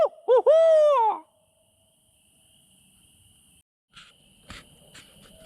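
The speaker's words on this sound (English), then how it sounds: "Let's see if we can't call up an owl" An owl hooting at night in the woods, heard as a few loud, close, wavering hoots in the first second, then a steady insect drone with faint rustles and a brief noise burst later.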